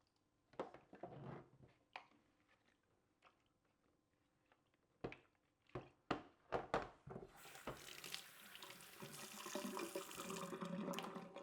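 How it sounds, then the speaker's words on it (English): Wash water is poured into a film developing tank for 4x5 sheet film. A few quiet clunks and handling knocks come first, then a close, steady rush of pouring water fills the last few seconds. "let me pour the first wash water in"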